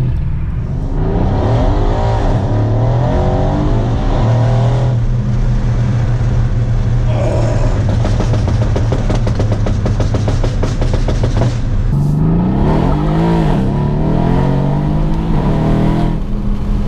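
A tuned AMG C63 engine roars loudly up close, revving hard, with a burst of crackling exhaust pops in the middle before it surges again.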